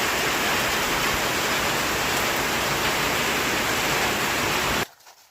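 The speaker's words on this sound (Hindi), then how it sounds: "बहुत खतरनाक वाली बारिश आ गई भाई।" Heavy rain pours down in the mountains as a dense, steady, loud roar that fills the whole scene, then cuts off abruptly just before the end.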